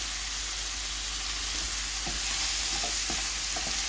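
Devilled sausages fry in a pan over medium heat with a steady, close sizzle, while a few soft scraping stirs come through in the last couple of seconds.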